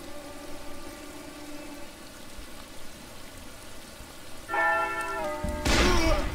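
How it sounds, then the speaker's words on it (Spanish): In the Call of Juarez: Bound in Blood video game, a bell rings out to signal a duel: one clear, sustained strike over a rain-like ambience, followed moments later by a loud, sharp burst. "Cuando oiga la campana, saca la pistola con ratón y dispara."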